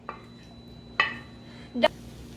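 Chopped chicken pieces for homemade shawarma go back into a frying pan: a few sharp metallic clinks and scrapes of pan and utensil, spaced about a second apart, close and fairly quiet.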